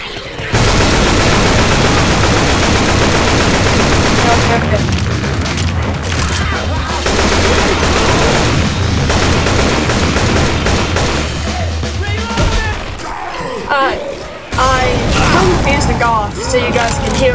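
Gunfire in Left 4 Dead 2, loud rapid bursts of shots and booms that run almost nonstop and close up, briefly easing before resuming, under an excited voice talking.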